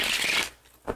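A deck of playing cards is riffle-shuffled close up, a dense papery riffle for about half a second, then a brief quiet gap before one short snapping burst as the cards are bridged back together.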